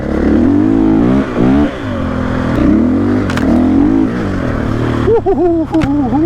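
A KTM 500 EXC-F enduro motorcycle, a 2024 model, rides on an off-road trail, its engine loud and close with steady revving that rises and falls, plus clatter over rough ground.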